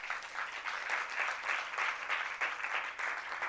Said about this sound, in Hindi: जरा ताली बजाओ